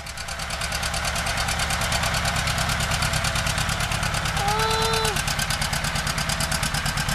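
A rare John Deere 830 two-cylinder tractor engine idles steadily with a rapid, even knocking pulse, loud and close, and a brief tonal squeak partway through.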